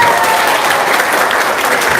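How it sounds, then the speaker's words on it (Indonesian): A seminar audience breaks into continuous, loud applause, many hands clapping together with no pause. "Tepuk tangan dulu semuanya."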